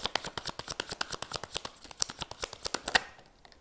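A tarot card deck is shuffled, giving a rapid, regular run of crisp close card flicks and taps, about seven per second, easing off at the end with no speech.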